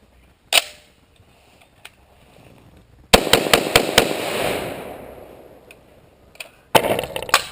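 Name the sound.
Colt mil-spec magazine in Beretta ARX100 rifle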